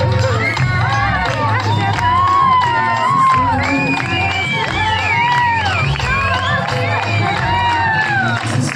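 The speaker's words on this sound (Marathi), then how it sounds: "या आजींच्या डान्सला पाहून तर एवढ्या शिट्ट्यांचा आणि टाळ्यांचा आवाज वाढला" A live crowd at a music concert whistles, cheers and claps loudly and continuously, with shrill whistles and shouts rising over a steady roar of applause and music underneath.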